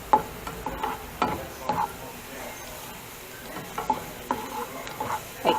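Chopped garlic frying in oil in a pan while being stirred, heard as intermittent scraping and clinking spoon strokes over a faint, steady sizzle, close and moderately loud.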